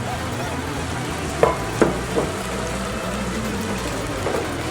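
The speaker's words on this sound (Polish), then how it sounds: "Na patelni rozgrzewamy olej, wrzucamy cebulę, z kolei pociętą w kostkę paprykę zieloną, żółtą" Diced onion with green, yellow and red bell peppers sizzling in hot oil in a frying pan, a steady crackling hiss with a few brief stirring clatters near the start.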